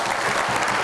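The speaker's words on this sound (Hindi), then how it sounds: "बहुत सारी तालियां आयजा के लिए भी" Studio audience at a televised Eid special transmission bursting into steady applause, a dense, close clapping wash throughout.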